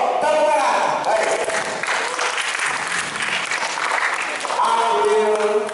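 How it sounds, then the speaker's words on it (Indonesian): Audience applause at a Christmas 2023 gathering with students, a dense, steady wash of clapping lasting several seconds with voices and cheers mixed through it. "Tepuk tangan."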